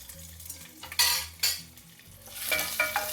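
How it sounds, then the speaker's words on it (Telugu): Onions fry lightly in a pan with bay leaves, cinnamon, cloves, cardamom and peppercorns, under a soft sizzle. A metal spatula scrapes and clinks against the pan in a few sharp bursts, close by. "వేసి జస్ట్ ఇలా లైట్గా వేయించుకోండి"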